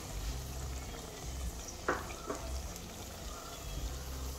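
Onions sauté in a pan with a low, continuous sizzle, interrupted around the middle by a couple of sharp utensil clinks.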